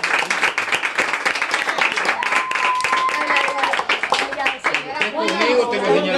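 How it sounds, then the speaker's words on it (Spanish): Applause for a performer called the mermaid on a Spanish-language show, dense clapping filling the whole stretch with voices and cheers mixed in, growing busier toward the end. "Un aplauso para la sirena, por favor."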